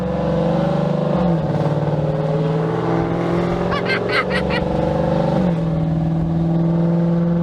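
From inside a Dodge Charger R/T, the engine and exhaust drone loudly and steadily as it accelerates, the pitch stepping down at two gear shifts and a raspier rattle briefly rising in the middle, with no clear speech.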